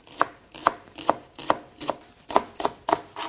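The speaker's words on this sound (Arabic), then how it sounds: "نقطع البصل إلى شرائح" Green onion being sliced on a cutting board for broccoli salad: seven or eight crisp knife chops in an even rhythm, close and clear, no voices.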